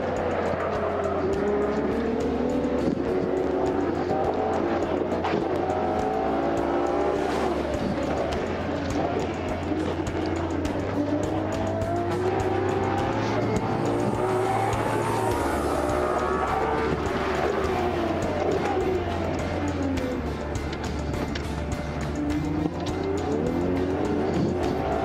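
Ferrari 812 Competizione V12 on the Fiorano track, a loud, continuous engine note rising and falling through gear changes as the car accelerates and slows, close and steady throughout.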